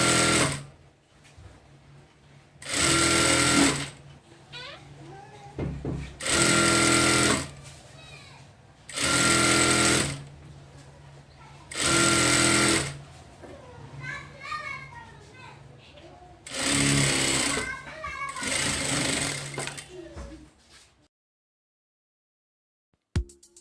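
Sewing machine putting a second row of double stitching along a cowl sleeve for an umbrella frock, running in six loud bursts of a few seconds each with quiet pauses between, while a voice talks over the gaps.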